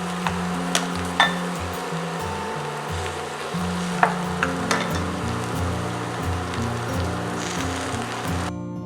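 Eggs fry on top of corned beef hash in a skillet, giving a steady close sizzle with a few sharp clicks and light scraping taps and no talk.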